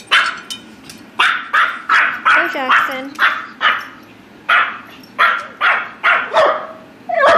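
A tiny 2 lb Maltese puppy barks repeatedly in sharp, high yips, about a dozen close bursts in an uneven rhythm while a person speaks briefly.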